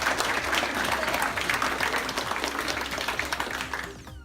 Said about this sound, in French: Vous pouvez applaudissez-vous.